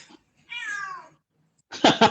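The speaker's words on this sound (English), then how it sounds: "Same thing here with the cats." A cat gives one clear, drawn-out meow in a quiet room, preceded by a faint short sound, and a person begins speaking right after it.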